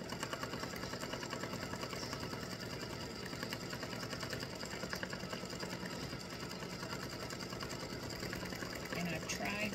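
A sewing machine stitching the outline of fabric game pieces, a rapid steady mechanical whir and needle chatter running continuously at moderate loudness, with a voice faintly present underneath.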